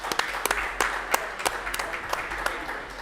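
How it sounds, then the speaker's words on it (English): A crowd applauds at a live USFL pre-game show at SpringStock in Protective Stadium, with scattered, uneven clapping that stays steady and moderately loud throughout. "Give him a round of applause."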